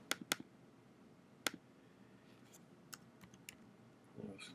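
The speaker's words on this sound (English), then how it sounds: "was typing too fast there." Quiet keyboard typing: a few sharp key clicks, a pause, then a short quick burst of taps, close and faint, with no talking.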